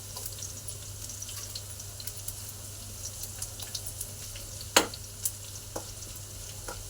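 Chana dal and dried red chillies fry in hot oil for a tempering, giving a steady, quiet sizzle with a few sharp clicks and pops, one of them louder near the end.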